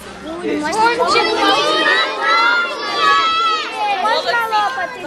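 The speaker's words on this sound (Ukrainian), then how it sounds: "ви так голосно кричите" A crowd of children shouting loudly together at the opening of a learning centre in Novoyavorivsk, sustained high-pitched voices swelling and overlapping for several seconds, close by.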